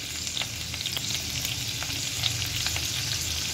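Spices frying in hot oil, cumin powder and red chili powder with whole dried red chilies, giving a dense, steady, close sizzle that runs unbroken with no voices.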